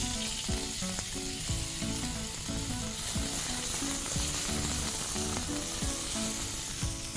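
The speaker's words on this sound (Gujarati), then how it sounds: "જીરું થઈ ગયું છે, હવે એમાં થોડી હળદર નાખીશું અને મકાઈ વઘારી દઈશું" Corn kernels with turmeric and cumin frying in hot oil give a dense, continuous loud sizzle with occasional light stirring clicks, close and steady with no voices.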